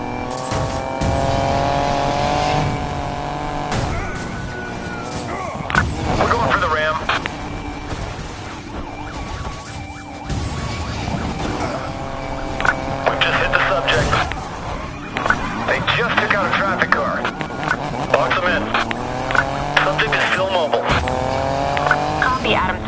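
Racing cars in the Need for Speed video game, with roaring engines, squealing tires and a crash, loud and continuous, under police radio chatter from the game.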